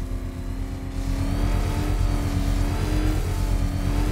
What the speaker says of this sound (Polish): Przegazuj silnik.